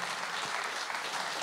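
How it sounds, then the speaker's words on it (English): Steady, dense applause from a variety show audience, clapping continuously at an even level throughout with no pauses. "give them a round of applause, ladies and gentlemen"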